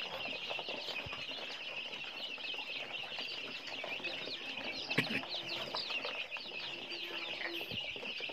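Free-range mixed-breed fighting chickens on a farm, a flock clucking and chirping continuously at moderate distance, with occasional wing flaps and a brief louder knock midway.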